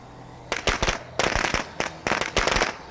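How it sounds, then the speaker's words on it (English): Firecrackers go off in the zombie survival game State of Decay 2, rapid crackling bursts of sharp pops in three clustered volleys, fairly close and sounded without talk. "toss the firecrackers somewhere over there."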